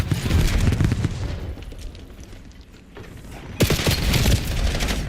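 Rapid bursts of gunfire and booms from a Call of Duty: Black Ops 7 multiplayer match, loud and dense at first, easing off in the middle, then surging again with heavy automatic fire.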